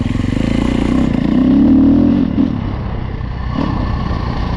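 A 2015 Husqvarna FC350 dirt bike in tight woods, its engine close and loud, revving up to a steady drone and then easing off to a lower idle-like rumble.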